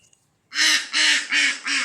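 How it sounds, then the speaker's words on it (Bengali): Four loud, close duck quacks in steady succession, each a harsh nasal burst, after a brief quiet start. "প্যাক প্যাক করছে"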